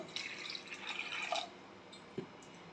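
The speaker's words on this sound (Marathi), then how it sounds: "चवळी बुडेल एवढंच पाणी घालायचे." Water is poured over cowpeas with coriander-cumin powder, turmeric and asafoetida in a pressure cooker, a faint close trickle for about a second and a half, then quiet with a brief clink.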